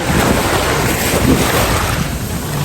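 Strong wind and crashing sea waves roar together at a beach on Ko Lan island, a loud, steady broadband wash with wind buffeting the microphone and no voices heard.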